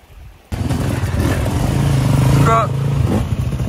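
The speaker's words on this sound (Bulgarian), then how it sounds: "Ето го моторчето." A prepared motorcycle engine bursts into a loud, close idle and blips of revving, with a gritty throbbing note that holds after a sudden start, while people talk nearby.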